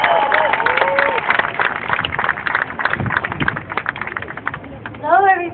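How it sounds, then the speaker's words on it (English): Outdoor crowd at an Ottawa protest rally clapping for a poetry performer; a loud, continuous patter of applause mixed with cheers and crowd noise, fading slightly toward the end. "I want to give her a round of applause."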